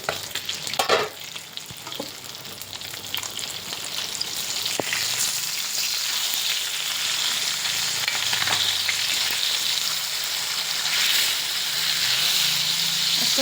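Gravy sizzling and frying in a pan, a steady dense hiss that holds throughout, with a few brief stirring scrapes and clatters near the start.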